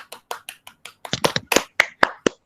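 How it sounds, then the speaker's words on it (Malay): Students in a science class give a short burst of clapping: a few light, quick claps, then a denser cluster of louder, uneven claps from several people, close and dry, with no talking. "Bagi tepukan."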